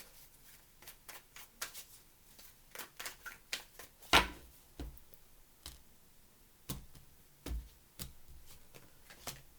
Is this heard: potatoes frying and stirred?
no